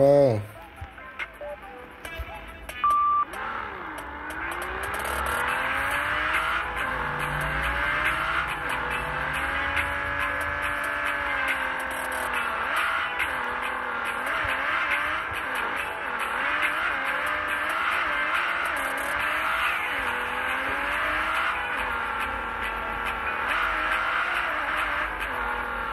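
Car engine in the Drift Max Pro racing video game, revving and rising and falling steadily with tire squeals across a long stretch, under background music and someone talking.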